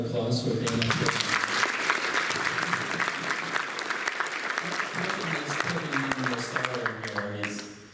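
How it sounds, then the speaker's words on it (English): A large audience of about 500 at the AIMed 19 conference applauds steadily, with a voice talking over the clapping and faint music underneath. "can we give them a round of applause for being up"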